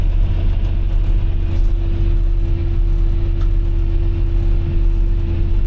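A farm tractor engine runs steadily during potato planting, giving a loud, constant low droning hum with no change in pitch.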